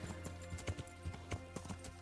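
Horse hooves clip-clop in Kingdom Come: Deliverance, a steady run of sharp, close hoofbeats repeating rhythmically across the clip, with no one talking.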